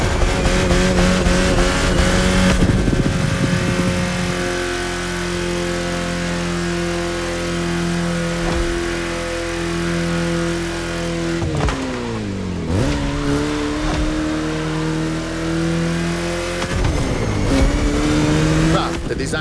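A car drives in The Crew Motorfest game, its engine roaring loud and steady with rising and falling revs through gear shifts and a few tire squeals, with a voice speaking over the drone.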